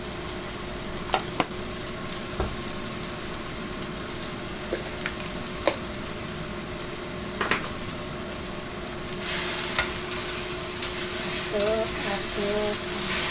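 Chicken spaghetti sauce with tomato sizzles in a frying pan while being stirred, a steady hiss broken by scraping clicks of the utensil against the pan, growing louder and busier near the end.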